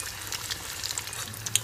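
Sear fish slices frying in hot oil, giving a steady close sizzle dotted with small crackles and pops throughout.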